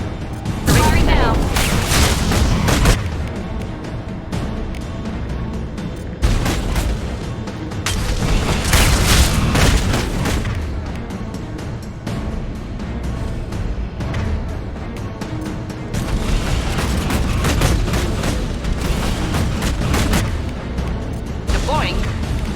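Heavy weapon fire in the video game Mass Effect 2, with repeated loud booming blasts and bursts of gunfire rolling through dense combat noise, broken by short pauses and with voices talking over the action.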